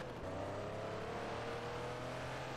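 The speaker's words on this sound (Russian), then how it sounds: "Пробуждающий звук Гелика." Mercedes G-Class engine in the Black Russia video game, a steady droning hum with a low tonal rumble that holds evenly throughout, fairly faint and without speech.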